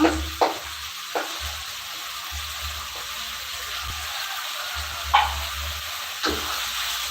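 Green chillies fry in a pan while being stirred, with a steady sizzle throughout and occasional sharp scrapes and taps of the spoon against the pan, close and moderately loud.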